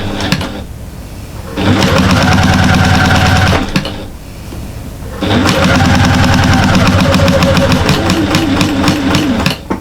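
Sewing machine stitching a flying geese cushion, running in two loud sustained bursts of fast rhythmic whirring, separated by a short quieter pause.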